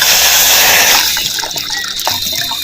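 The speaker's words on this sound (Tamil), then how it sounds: "நம்ம ஆவியில் வந்து நம்ம வேக வைக்கிறதுக்கு தேவையான அளவு நம்ம பச்சை தண்ணி ஊற்றிக்குவோம்" A steady gush of plain water pours loudly at close range into a cooking pot for steaming, then settles into splashing and bubbling as the pot fills.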